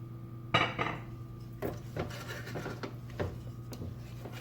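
Egg and potato curry being mixed in a cooking pot, with a utensil scraping and knocking against the pot in irregular strokes, close and moderately loud, with no talking.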